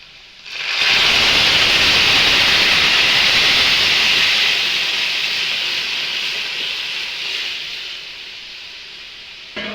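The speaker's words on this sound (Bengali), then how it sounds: "আমি ফোড়ন দিয়ে ডালটা ছাইড়া দিছি।" Tomato dal poured into hot tempering in a pan, giving a loud, sudden sizzle that starts abruptly and holds as a bright, steady hiss for several seconds before slowly easing off, close by and with no talk.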